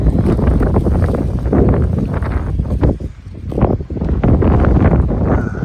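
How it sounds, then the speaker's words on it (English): Strong gusty wind buffets the microphone on an exposed Northern California mountain trail along the Pacific Crest Trail, a loud continuous rumble that dips briefly before surging back. "It's windy and exposed up here."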